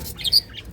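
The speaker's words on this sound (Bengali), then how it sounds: "হ্যাঁ, পাখিটা বসে আছে" A bird sitting at its clay nesting pot gives a short, close chirping call of a couple of quick notes, heard alone against a quiet background.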